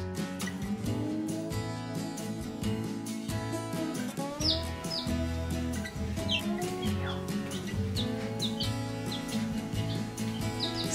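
Many tiny newly hatched baby chicks peep continuously and close by, a dense, high-pitched chorus of chirps with occasional soft clucks.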